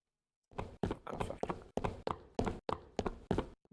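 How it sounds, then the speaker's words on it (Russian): Footsteps from the Counter-Strike Online game come as a quick, even run of about ten close thudding steps with a gritty texture, starting after a moment of silence and heard alone with no talking. "Там звуки шагов."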